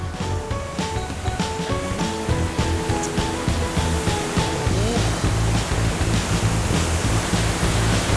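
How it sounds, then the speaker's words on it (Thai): Water gushing out from inside a cave in Mueang Khong, a steady heavy roar of falling, splashing water, loud and close throughout with no break. "อันนี้คือเขาบอกว่าคือน้ำอ่ะมันเหมือนออกมาจากข้างในถ้ำ"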